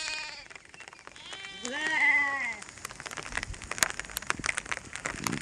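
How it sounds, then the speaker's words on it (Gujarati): A sheep or goat gives a single clear, wavering bleat close by on hillside grazing ground in Gir, followed by a steady rain-like patter and scattered rustling. "અને ઘેટા બકરા પણ અહીંયા સરે છે, બધા"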